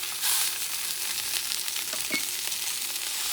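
Liver and onions sizzle in a pan, a steady, dense frying hiss held close and even throughout, with no voices.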